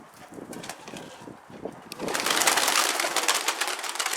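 Pigeons coo in low, soft calls, then a loud, rushing, airy noise rises halfway through and masks the cooing until the end.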